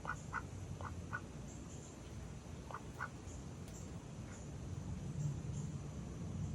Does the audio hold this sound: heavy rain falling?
no